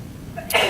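A single sudden sneeze from someone in a board of education meeting room, short and sharp after a brief quiet buildup, moderately loud.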